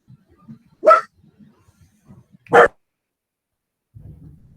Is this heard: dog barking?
yes